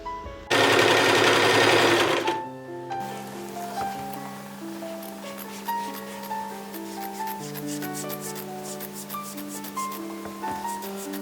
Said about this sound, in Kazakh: Міне осылай перделердің бәрін өзім өз қолыммен тігіп шығамын.